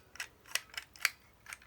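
Paper is cut by hand with scissors in a quiet room, a series of about six crisp, separate snips at an uneven pace, close and fairly soft, with no speech.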